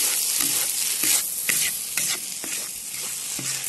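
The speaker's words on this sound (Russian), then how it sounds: "Отправляем макароны. Все вместе обжариваем." Lagman noodles and set egg frying together in a kazan over a campfire, loud steady sizzle with repeated scraping stirs of a spatula at a regular rhythm, close and without talk.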